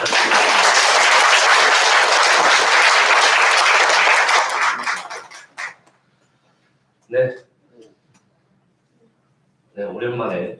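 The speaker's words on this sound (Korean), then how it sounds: "환영의 박수를 부탁드립니다." Audience applause fills a church worship service, a loud sustained wash of clapping that fades out midway, followed by brief bursts of talk.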